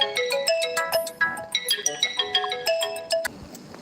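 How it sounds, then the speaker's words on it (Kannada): A phone ringtone for an incoming call plays as a quick, bright, repeating melodic pattern of close chiming tones. It is loud and steady, and a voice is faintly audible beneath it. "ಸಾರಿ ಗೈಸ್, ಕಾಲ್ ಬಂತು."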